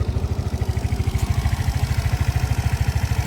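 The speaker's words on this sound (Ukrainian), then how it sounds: "Двигун працює гарно" A Suzuki Address 125S scooter engine idles close by with a fast, even putter and a steady rhythm, no voices over it.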